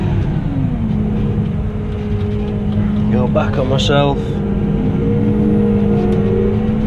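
A Case 240 CVX tractor pulls a power harrow, its engine holding a steady, close droning hum throughout while someone talks over it.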